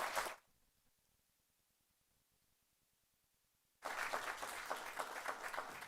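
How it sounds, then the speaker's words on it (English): At a local candidate forum, a burst of clapping cuts off, then after a few seconds of near silence a full round of audience applause erupts and continues, dense and moderately loud. "let's give them a round of applause"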